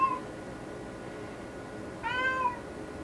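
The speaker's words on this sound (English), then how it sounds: "My cats are needy." Indoor cats meowing, one short meow at the start and a longer, louder meow about two seconds later, close and clear over quiet room tone.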